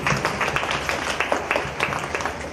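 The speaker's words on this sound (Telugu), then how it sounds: "సో వాళ్ళందరికీ మీరందరూ ఒకసారి క్లాప్స్ కొట్టాలి" An audience gives a short round of applause for women entrepreneurs at a government gathering in Ongole, brisk dense clapping from many hands, moderately loud and close, lasting the whole moment with no speech.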